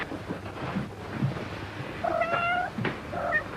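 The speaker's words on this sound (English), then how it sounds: "Please, Kitty, please." Cat meowing indoors in a 1947 film scene, a few plaintive mid-pitched meows clustered in the second half, moderately close, with faint background hiss and no talk over them.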